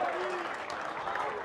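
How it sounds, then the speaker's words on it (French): Crowd applauding at a French men's singles pétanque championship, a brief even wash of clapping with voices mixed in underneath. "Les applaudissements sont pour Mouna Béji et Nadège Bossian-Prota, me semble-t-il."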